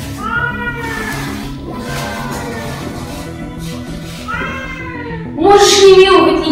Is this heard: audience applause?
no